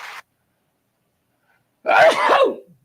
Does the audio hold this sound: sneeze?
yes